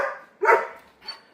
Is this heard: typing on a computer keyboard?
no